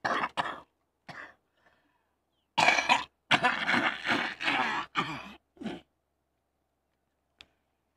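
A man coughs several times in short harsh bursts, one a longer throaty fit, separated by quiet pauses, close to the listener.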